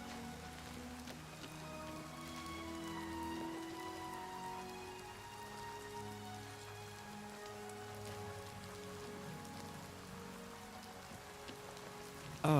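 Steady rain pattering on surfaces in the video game Oblivion Remastered, a continuous dense patter running throughout with a faint low ambient hum beneath and no voices.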